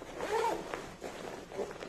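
The back air-vent zip on a red Axor JK 48 riding jacket is pulled in a quick, close rasping stroke, followed by a couple of shorter, softer zipping rasps.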